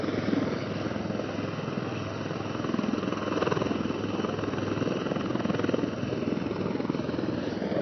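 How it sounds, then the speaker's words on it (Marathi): A rescue helicopter comes in to land over a rocky river during a flood rescue of stranded fishermen, its rotor chop a steady, loud, close roar that holds throughout. "हेलिकॉप्टरचं लँडिंग सध्या क्रुशियल झालं"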